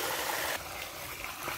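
Water pouring and splashing steadily into a fish pan at a rural farm, a brief close rushing trickle with no talk.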